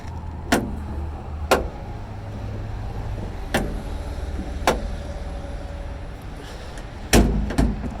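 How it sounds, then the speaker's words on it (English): A VW Thing's car door being tried while stuck: several sharp separate clunks and rattles spaced a second or so apart, with a quick double knock near the end, over a low steady background rumble, close by. "Let's see if this door's just locked."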